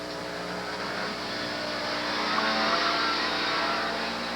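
A 1985 Honda CRX running an autocross course at a Canadian national solo event, its engine a steady droning whine heard from a distance, rising slightly in loudness midway as it works through the course.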